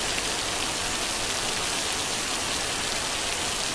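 Heavy rain pours down steadily, a dense, even hiss of drops on surfaces that stays loud and unbroken from start to finish with no voices.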